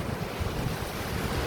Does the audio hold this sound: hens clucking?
no